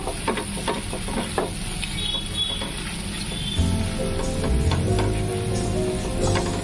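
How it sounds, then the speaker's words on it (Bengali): Chopped onion fries steadily in oil over a low gas flame, a continuous close sizzle with scattered crackles and pops that swells slightly louder in the second half. "পেঁয়াজটা একটু ভাজা ভাজা হতে দেবো।"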